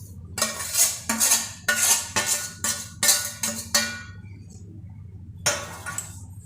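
A metal spoon scrapes and clanks against a pan while gram flour (besan) is stirred into the mix for besan barfi, a close, rhythmic run of bright metallic strokes that pauses briefly before one last scrape.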